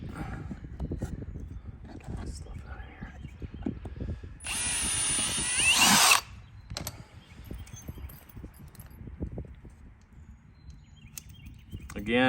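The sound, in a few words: rivet gun installing a rivet in GYTR harness bracket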